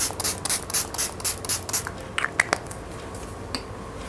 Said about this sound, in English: So I'm gonna spray rose water on my face.